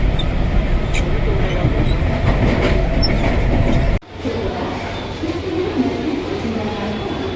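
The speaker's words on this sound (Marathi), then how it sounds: "तर मंडळी आता मी ट्रेन पकडणार आहे" Loud, steady rumble and rattling clatter of a train ride toward Virar station, continuous at first, then cutting abruptly to a slightly quieter, ongoing run of the carriage.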